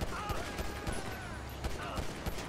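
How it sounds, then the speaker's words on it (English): Gunfire from the video game GTA V, with a rapid burst of sharp shots over dense, busy game noise. "Random shots fired."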